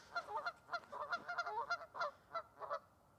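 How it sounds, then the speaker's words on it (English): Geese honking outdoors, a busy run of repeated nasal honks overlapping in quick succession, moderately distant and fairly faint, with no talking. "I think those geese want to be in the video because they're just singing for us"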